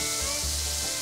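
Chopped garlic fries in olive oil with a dense, steady sizzle heard up close, with a few faint stirring rubs and no talk.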